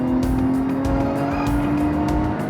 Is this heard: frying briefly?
no